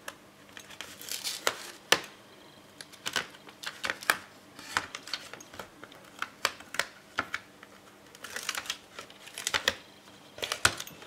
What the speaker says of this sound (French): je vais enlever juste le double face qui fait cette largeur là